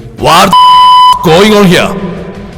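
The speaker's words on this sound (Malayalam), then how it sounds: "അദ്ദേഹത്തിന്റെ ഫോൺ ബെല്ലടിച്ച്" A phone rings as a sound effect in a Malayalam audio story: a single steady electronic tone sounds for under a second between stretches of close, loud narration.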